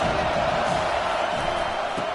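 Football stadium crowd at a college game between Kingtlow and Oregon, a loud, steady roar of cheering that holds evenly throughout.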